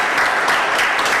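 Audience at a religious conference in applause and acclaim for God, a dense, steady wash of many hands clapping close and loud, without a break for the whole moment.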